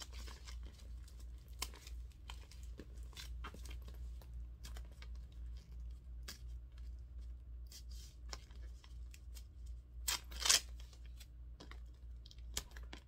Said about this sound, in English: I'm trying to get all this paper off.